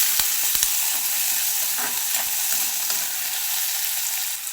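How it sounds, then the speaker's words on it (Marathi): Tomatoes fry with curry leaves in a pan for a moth bean curry, giving a loud, continuous close sizzle with a few knocks and scrapes of a stirring spoon. "टोमॅटो पण टाकून घ्यायचा ते पण असं एक मिनटासाठी हलवत राहायचं"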